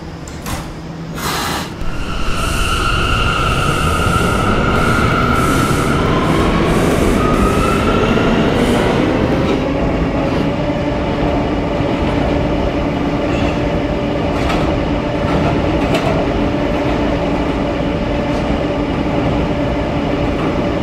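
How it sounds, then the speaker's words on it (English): A Roblox R179 B subway train pulls away and runs along the track, loud and close, with a rising electric motor whine, door and rail clatter, and a steady rolling rumble that continues without speech. "This is a Potato Brook bound B train."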